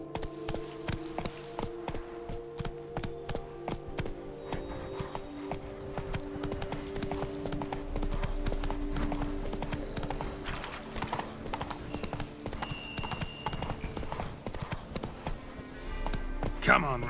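Hooves of Roach, a horse in The Witcher 3: Wild Hunt Blood and Wine, clip-clopping at a gallop in a steady rapid rhythm, with game music, ambient insects and a voice urging the horse on.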